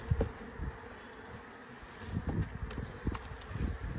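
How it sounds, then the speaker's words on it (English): A wasp inside a beehive gives a faint, wavering insect buzz, with scattered soft rustles and bumps close by. "Oh, it's a wasp."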